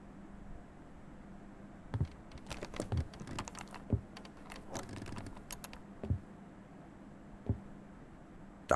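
Clacking keystrokes on an old, massive computer keyboard in a VR game, arriving in scattered bursts with a few sharper, louder key strikes, close and clear against a quiet background with no talk.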